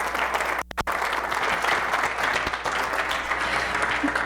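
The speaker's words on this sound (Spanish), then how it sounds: "un fuerte aplauso" An audience applauds after a talk, sustained dense clapping from a large crowd, loud and close, with a brief gap near the start before the clapping continues steadily.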